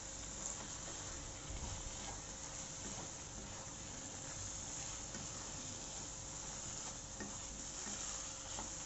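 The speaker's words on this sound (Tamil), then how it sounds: "நல்லா ஒரு 2 மினிட்ஸ் கிளறி கொடுத்துட்டே இருங்க" Spicy mutton chukka is stirred steadily in a pan as it cooks down dry, giving a soft continuous scraping and low sizzle that stays even and fairly quiet throughout.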